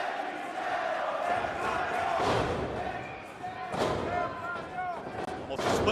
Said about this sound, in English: listen to the crowd explode for Hechicero